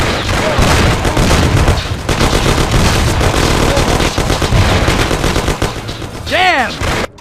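A loud, dense shootout from the game Mafia: The City of Lost Heaven, with continuous rapid gunfire and bursts of shots close by, ending in a ricochet-like whine.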